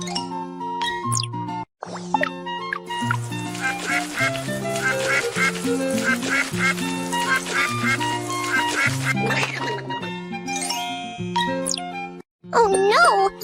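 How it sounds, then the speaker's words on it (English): A cartoon duck quacks repeatedly during a bath scene in a children's animated game, bright nasal quacks mixed with tinkling chimes and a bouncy musical backing, loud and upfront. "The duck looks dirty. Let's take it for a bath."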